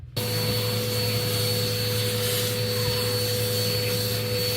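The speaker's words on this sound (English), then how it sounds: "So I'm gonna get this vacuumed real quick." Vacuum cleaner running steadily in a room during an office demolition cleanup, a loud continuous drone with a high whine, starting abruptly and holding constant throughout.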